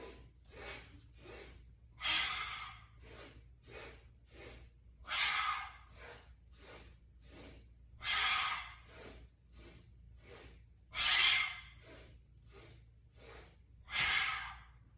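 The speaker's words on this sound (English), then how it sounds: "we're really exhaling, making a sound with our exhale" Forceful audible exhales during a yoga breathing exercise, a dozen or more breaths in a steady rhythm with longer, louder sighing releases every few seconds, close and clear with no talking.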